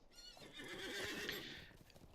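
A horse whinnies loudly and clip-clops in the fantasy online game Lord of the Rings Online, a single close neigh with hoof sounds beneath it, heard alone.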